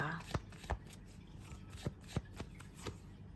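Tarot cards are shuffled and drawn close by in quiet, a series of soft papery slaps and flicks landing roughly every half second.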